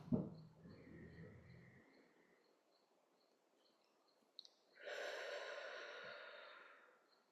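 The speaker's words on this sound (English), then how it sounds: "let's take a few deep breaths so that we are focusing on the breath" Deep slow breaths during a quiet meditation, a soft inhale at the start, a long hush, then a long airy exhale near the end, faint and close with crickets chirping in the background.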